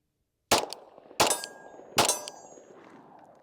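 Three sharp pistol shots from a Glock 40C ring out about a second apart, each followed by a metallic clang as rounds strike steel targets, close and loud with a short ringing tail and no talking.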